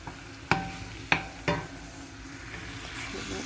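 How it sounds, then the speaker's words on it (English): Chicken frying in a pan with cumin seeds and red pepper: a low, steady sizzle punctuated by three sharp scraping or stirring knocks early on, then a softer continuous frying hiss. "we're cooking up nicely with this chicken"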